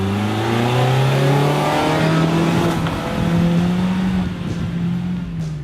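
A 2016 Mazda CX-3 AWD engine revs eagerly through steady rising and falling pitch sweeps, loud and close from inside the cabin, continuous for several seconds without speech.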